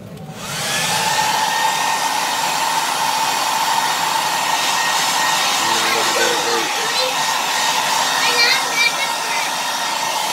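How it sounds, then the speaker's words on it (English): A blow dryer runs continuously over an acrylic pour painting, starting after a brief quiet moment and then holding a steady, close, loud whirring hiss with slight tonal wobble throughout. "Blow dryer is not good enough."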